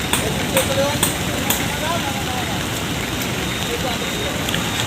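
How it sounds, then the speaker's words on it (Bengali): Rain patters steadily over a jammed stretch of the Jessore–Khulna highway, a constant hiss with occasional sharper drops and a faint engine hum beneath, while a voice talks. "বৃষ্টিও পড়ছে জ্যামও বেঁধে গেছে"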